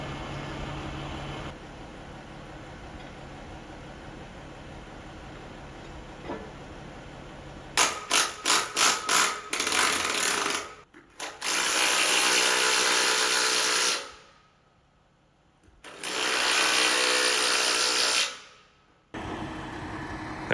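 Power tools bolting splice plates onto a main beam spanning a house under construction, heard as a quick run of sharp bursts followed by two long, loud sustained whirring stretches separated by pauses, with no talking.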